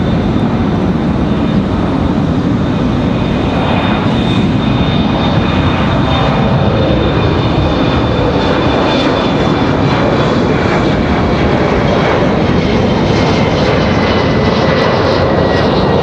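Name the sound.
American Eagle jet airliner moving at Raleigh-Durham airport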